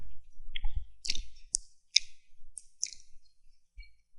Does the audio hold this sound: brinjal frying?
no